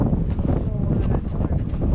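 Steady wind on a snowy avalanche slope buffets the microphone in a low, continuous roar that stays loud throughout.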